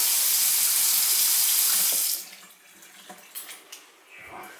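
A brand-new kitchen faucet runs in a strong, steady hissing stream for about two seconds, then shuts off, leaving a few faint clinks and drips in a quiet room.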